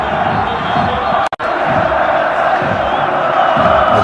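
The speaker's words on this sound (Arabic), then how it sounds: "هذا جانب من الجمهور العريض الذي يحضر في هذه المباراة ويملأ مدرجات" A large stadium crowd at a football match between MC Alger and ES Setif, a steady loud roar of many voices filling the stands, with a brief dropout partway through and an announcer talking over it.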